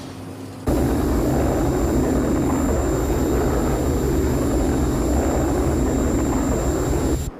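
The Thunderbird 1 rescue craft from the Thunderbirds series roars in to land at London Airport, a loud continuous engine rush with a steady high whine that starts abruptly and holds throughout.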